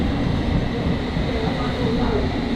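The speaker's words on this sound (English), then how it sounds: "This is a Hammersmith and City Line train to Barking" A London Underground Hammersmith and City line train to Barking gives a steady, loud low rumble of rolling carriages, with a constant roar filling the car.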